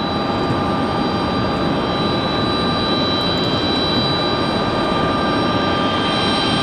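A FedEx Boeing 757 jet sits idling before pushback at Raleigh Durham International in the evening, giving a steady, loud engine roar with a high whine that holds unchanged throughout.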